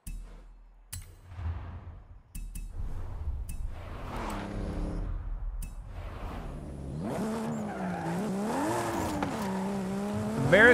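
A Toyota Supra drifting in Forza Horizon 5, played on a wheel: engine revs rise and fall in short bursts, then a sustained, wavering tire squeal builds as the car slides, close and loud with no talk.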